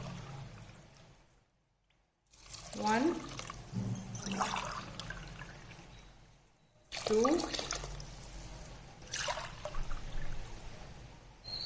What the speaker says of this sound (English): So I am going to add 3 glasses of water.